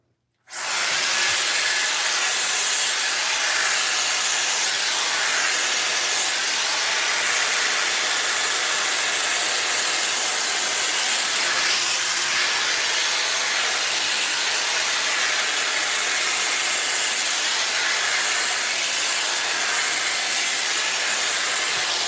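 A Shark Glossi hair tool runs on its highest setting as a loud, continuous airy hiss that starts abruptly and holds steady for over twenty seconds, with no talk over it.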